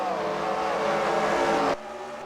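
Race car engine in the NASCAR Racing 2003 video game at Bristol Motor Speedway, a loud sustained drone with rising harmonic pitch as it accelerates, then abruptly dropping to a quieter, steadier hum near the end, with no voices.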